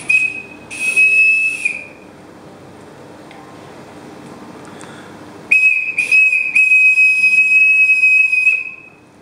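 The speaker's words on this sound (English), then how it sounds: "And there you have an emergency whistle." A shrill, piercing homemade emergency whistle blown loudly in two long blasts, separated by a stretch of breathy hiss and quieter noise.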